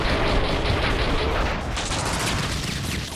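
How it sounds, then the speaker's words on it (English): Dense gunfire and explosions in the Max Payne video game form a loud, continuous barrage of shots and booms with no pauses, heard close and alone. "Shoot the gun."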